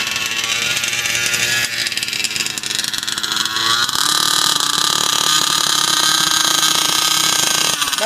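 A fifth-scale RC car's petrol engine runs steadily at half throttle during break-in, a loud, continuous buzzing drone up close that shifts slightly in pitch partway through and holds without pause.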